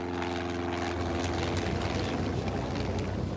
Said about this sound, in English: Passers-by watched amazed as a Cessna light aircraft landed in Red Square.